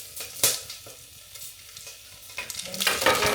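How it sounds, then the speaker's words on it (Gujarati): Cumin seeds sizzling and crackling in very hot oil, with the gas just switched off. Scattered pops and spatters build into a denser, louder crackle near the end. "થોડું જીરું નાખી દીધું અને થોડી વાર ગેસ બંધ કરી દીધો છે."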